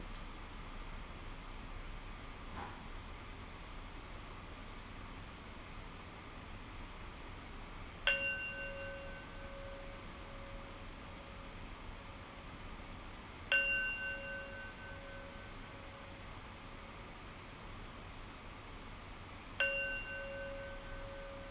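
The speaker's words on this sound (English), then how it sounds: "now we'll close our practice with 3 rings of the bell" A meditation bell closes a practice session, struck three times at slow, even intervals. Each clear ring decays gently over a quiet room hush, with no talking.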